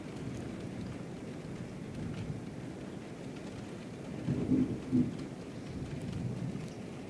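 A thunderstorm outdoors: steady rain patters on surfaces throughout while low, rumbling thunder swells twice in the middle, moderately distant and fairly quiet overall.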